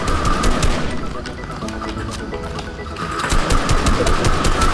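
Sniper fire in the video game Fortnite, loud rapid cracks repeating in dense bursts that ease briefly mid-clip, then resume at full intensity, alone with no talking.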